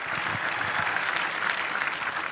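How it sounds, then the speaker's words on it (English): Audience applause at a live Ford reveal event for the new Mustang, steady and dense clapping from a crowd, filling the whole stretch without pause. "Round of applause again."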